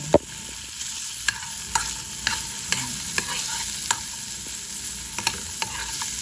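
Onion, garlic and chili sautéing in a pan for salmon belly sisig: a steady close sizzle with spatula stirs and scrapes tapping at irregular intervals.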